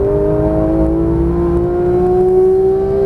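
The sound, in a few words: Porsche 991.1 GT3 engine accelerating on race track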